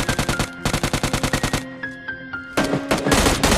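An upgradable gun in PUBG Lite firing in rapid automatic bursts, loud and close, with a short pause holding tonal game effects before another burst.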